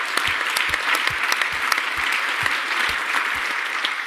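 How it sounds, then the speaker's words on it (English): Conference audience at the Area41 2018 closing ceremony gives a round of applause, a loud, dense clapping with a few rhythmic heavier claps pulsing through, steady for several seconds. "So I would guess we give them a round of applause as well"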